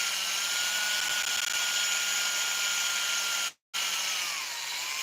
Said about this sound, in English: drilling at full speed because that's not good for the drill bit